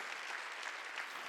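A church congregation applauding at a Wednesday worship service, a brief, steady burst of many hands clapping together, evenly loud throughout.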